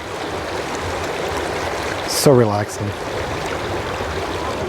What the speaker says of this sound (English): Something about running water, clear running water.